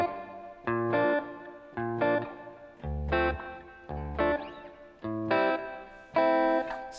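Guitar chord progression drenched in a long 2.1-second reverb with added noise, strummed in evenly spaced chord hits that swell and ring into each other, moderately loud and alone.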